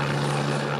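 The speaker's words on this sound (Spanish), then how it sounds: "Un helicóptero que cargaba una canasta con agua llegó al sitio para descargarla en la cima del Cerro Colorado" Helicopter carrying a water basket to drop on a fire atop Cerro Colorado in northern Guayaquil, Ecuador, with a steady, loud rotor and engine drone holding constant for the whole short stretch, nothing else audible.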